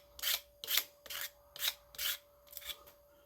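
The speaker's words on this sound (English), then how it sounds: "A couple swipes of the sandpaper and it's gone." Sandpaper rasping over the sharp edges of a homemade starter battery box, six quick back-and-forth swipes in a steady rhythm, close and fairly soft, with no talk.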